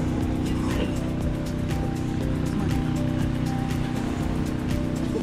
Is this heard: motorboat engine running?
yes